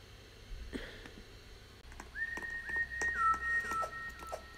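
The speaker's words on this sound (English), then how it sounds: "It sounds like whistling music." Whistling music from the Tornado Alley Ultimate video game, a few clear sliding whistle tones rising and holding over faint background game noise, fairly close and moderately loud.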